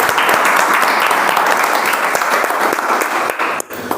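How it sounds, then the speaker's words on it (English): After a speech at a meeting, an audience claps in a loud, sustained round that thins slightly toward the end. "Give a big round of applause for it."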